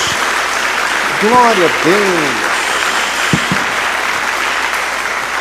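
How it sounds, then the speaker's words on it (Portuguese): A church congregation applauds during a Portuguese-language sermon, a steady wash of clapping running under the preacher's loud spoken exclamations throughout. "Dê uma salva de palmas a Jesus"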